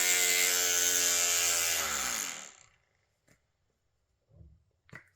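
Green Stuff World paint mixer running at full speed, a loud steady mechanical whine with a falling pitch as it spins down after about two seconds, followed by near silence and a few faint handling clicks.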